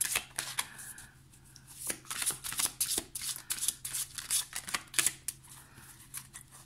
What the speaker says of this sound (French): Les cartes sont très très belles, mais elles sont très grandes.